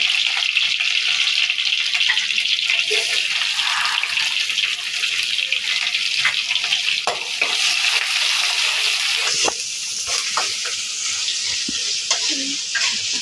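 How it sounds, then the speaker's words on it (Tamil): Onions, green chili and curry leaves fry in a pan with fennel seeds, giving a steady bright sizzle throughout, broken by occasional clinks and stirring scrapes, close and fairly loud. "வெங்காயம் நல்லா வதங்கணும்."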